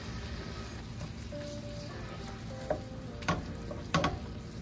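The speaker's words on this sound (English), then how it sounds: "Now I'm gonna throw in the chorizo." Chorizo sizzling in a pan for discada while being mashed: a steady, close frying hiss broken by a few sharp scrapes and clacks of the utensil against the pan, with no talking.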